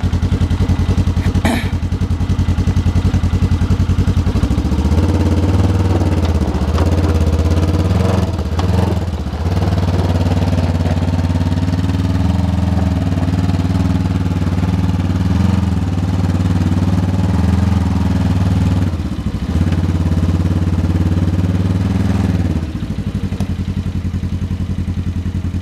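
A motorcycle engine runs steadily at close range, its throttle rising and easing in a few revs over a continuous idle-to-mid rumble, with no talk.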